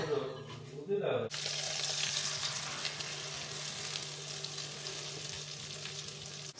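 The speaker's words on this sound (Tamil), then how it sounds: "முட்டை 5 நிமிஷத்துல பொரிச்சிடலாம்." An egg frying in hot oil in a pan, a loud continuous sizzle that bursts in suddenly after a brief quieter opening and holds steady to the end.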